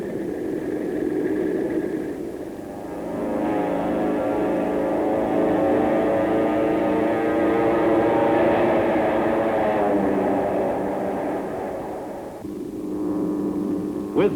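World War II P-51 Mustang fighters fly with a sustained, droning piston-engine roar. It holds steady at a fairly close distance, dips briefly early on and again near the end, and plays without any talk.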